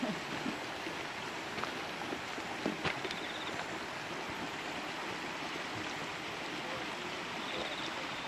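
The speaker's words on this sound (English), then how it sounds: "Through all the steam and everything, there's a very vigorous bubbling whatever it is down there." Vigorous bubbling of a steaming geothermal pool in New Zealand, a faint continuous hiss and gurgle with a few small pops, steady throughout.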